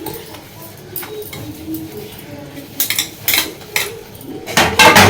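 Dishes and metal utensils clink and clatter in a home kitchen, a run of sharp, irregular knocks and rattles that grow louder and busier toward the end.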